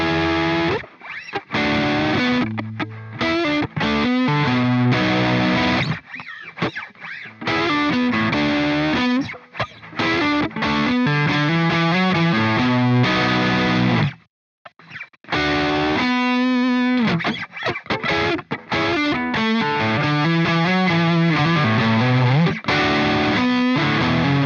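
An Epiphone Les Paul Modern electric guitar plays crunchy, distorted chords and riffs, loud and sustained, with a couple of brief pauses between phrases.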